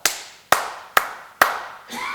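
Four sharp hand claps ring out alone at an even, unhurried pace in a quiet room, each with a short reverberant tail, followed by a faint shuffling sound at the end.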